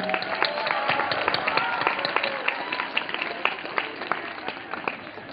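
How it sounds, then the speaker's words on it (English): Loud, sustained applause from a large crowd at a children's event in Jaipur, dense rapid clapping continuing steadily throughout. "A big round of applause for all of you children."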